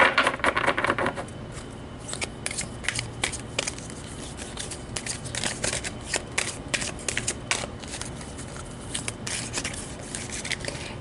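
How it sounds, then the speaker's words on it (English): Tarot cards are shuffled close up, with a quick riffle at first and then a long run of soft, irregular flicks and slides of card stock against card stock. "let's pull an outcome card"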